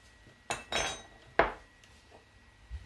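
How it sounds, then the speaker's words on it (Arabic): Dry baking ingredients, spiced with cinnamon and turmeric, are stirred in a bowl for Moroccan sebbaka, giving a few sharp utensil clinks and scrapes against the bowl with quiet gaps between them. "غنخلطوا مزيان هاد النواشف"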